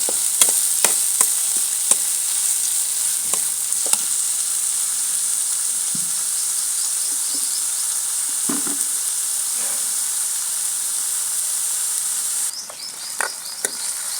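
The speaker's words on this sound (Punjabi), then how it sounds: "ਮਸਾਲਾ ਆਪਾਂ ਚੰਗੀ ਤਰ੍ਹਾਂ ਭੁੰਨ ਲਾਂਗੇ" A spice masala for stuffed bitter gourd roasts in hot oil with a constant, bright hiss and sizzle, while occasional stirring scrapes and taps sound close by.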